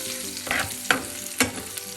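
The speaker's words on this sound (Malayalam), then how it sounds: "അത് എണ്ണയിൽ കിടന്നൊന്ന് മൂക്കട്ടെ" A quarter teaspoon of turmeric powder fries in hot oil in a pan for a green chilli yogurt curry, with a soft continuous sizzle and a few quick stirring scrapes, close and moderate in level.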